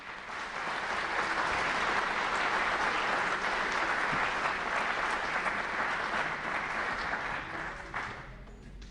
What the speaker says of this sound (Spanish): Nuevamente un aplauso para ella.